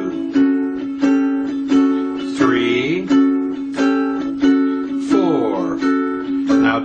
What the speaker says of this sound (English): So let me do it completely through with the shuffle strum.